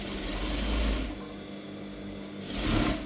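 A sewing machine stitches a folded cloth strip onto a gown in two bursts of steady, close whirring, separated by a short pause.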